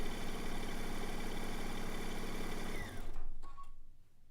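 A sewing machine stitches over silicone-tipped pins in a quilting or garment piecing session, running in a fast steady mechanical chatter for about three seconds before stopping, followed by a few faint clicks.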